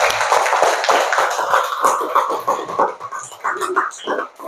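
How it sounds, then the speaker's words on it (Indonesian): Schoolchildren in an Indonesian classroom applaud their classmates with dense, continuous clapping for several seconds, loud and near, with a busy background of many hands and some voices. "tepuk tangan dulu untuk teman-temannya"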